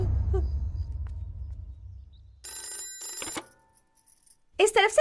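A telephone rings in short bursts of bright bell tone amid low rumble, with a voice speaking between and around the rings.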